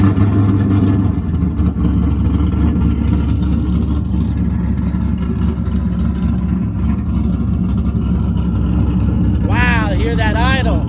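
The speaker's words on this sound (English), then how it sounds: "Wow, I hear that idle." A 1967 Chevrolet Camaro RS SS resto-mod engine idling at a car show in Las Vegas, a loud, steady, deep rumble close by throughout, with a brief voice near the end.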